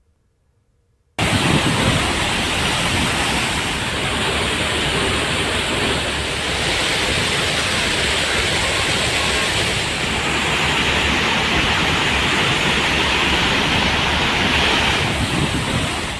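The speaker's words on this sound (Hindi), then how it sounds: "ये नौहट्टा के महादेव खोह के पास गिरने वाले झरने की भयावह तस्वीर है।" Roaring floodwater pours over the waterfall near Mahadev Khoh in Nauhatta, Rohtas. After a second of silence, a loud, steady, dense rush continues without a break.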